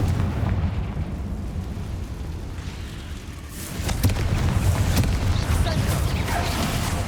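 A Confringo fire spell in Hogwarts Legacy goes off as a loud booming blast about halfway through. A rumbling, crackling roar continues afterward over dense in-game ambience.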